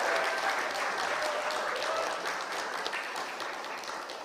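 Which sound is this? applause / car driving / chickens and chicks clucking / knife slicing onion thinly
applause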